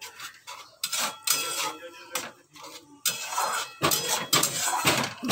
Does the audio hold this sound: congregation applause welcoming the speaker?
no